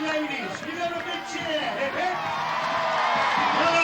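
Roadside crowd on Jamaica Road cheering London Marathon runners in 1985, a dense, steady roar of whoops, shouts and chatter that swells toward the end, with voices mixed throughout.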